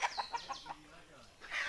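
Rooster on a desi chicken farm chasing another rooster, giving a quick series of close, squawking clucks in short bursts, followed by a brief pause and a rising flurry of agitated fowl calls.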